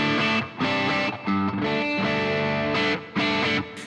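A distorted electric guitar through a Boss GT-1000 with a boost pedal cutting the signal plays a rhythmic riff of chugging chords with brief gaps, loud and upfront, with no talk.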